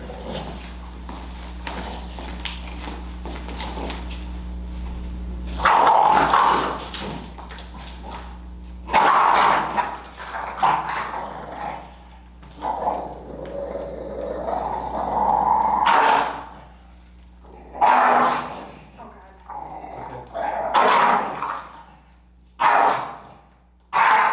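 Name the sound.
reactive dog barking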